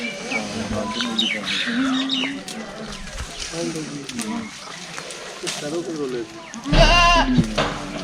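Goats bleat in Jhamra village, with repeated wavering calls close by, mixed with bird chirps. People talk over them, and a loud bleat comes near the end.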